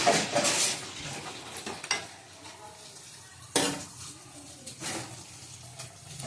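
A metal lid goes onto a cooking pot of chicken and potatoes, with a few sharp clanks and clatters spaced over several seconds against a quiet background of faint simmering.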